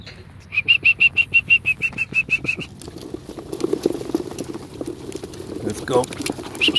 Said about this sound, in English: Let's lock down the birds and let's let them go.